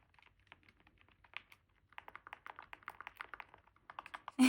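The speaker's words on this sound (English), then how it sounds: "I think the sounds that the buttons make on this console are particularly very satisfying and fun to press and listen to" Buttons on a handheld video game console are pressed in quick, crisp clicking bursts, sparse at first then a denser run of taps, close and clear with no talking.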